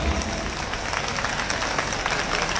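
Audience applause at a public speech in Khajuraho, a dense, steady wash of clapping filling the whole stretch at even loudness with a faint crowd murmur beneath.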